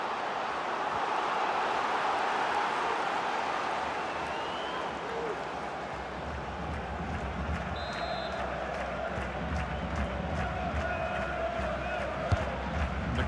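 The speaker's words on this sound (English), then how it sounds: "the crowd is certainly trying to motivate the players to get the equaliser" Football crowd at a Dinamo Bucuresti vs FCSB Superliga match roars and chants steadily throughout, loud and broad, with commentary over the top.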